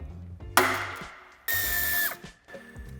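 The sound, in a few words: power tool removing a screw from car bumper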